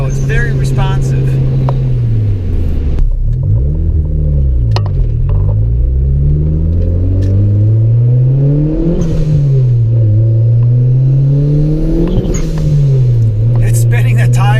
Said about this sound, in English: It's spinning the tires.